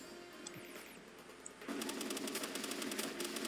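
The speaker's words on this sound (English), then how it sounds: "we will try our Vortex Beater on the eye, of course, so that we don't waste the ammo" Rapid automatic fire from the Vortex Beater in Terraria, a dense, steady stream of shots that starts partway through and continues loudly to the end, following a quieter stretch of background game sounds.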